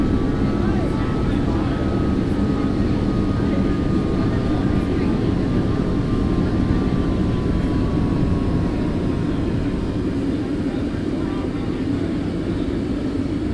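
Steady engine drone of a Delta Airbus A330-200 climbing in flight in a flight simulator game, a continuous low rumble with a faint whine, constant throughout.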